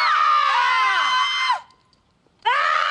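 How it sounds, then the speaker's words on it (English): A woman screams loudly and shrilly in a long sustained wail, breaks off into a brief silence, then starts screaming again, very close. "I can scream too."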